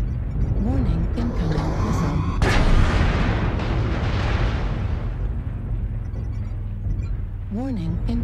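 Booming explosions in the MechWarrior video game, a broad blast around the middle swelling into rumbling noise, with synthetic voice warnings and engine drone running underneath throughout.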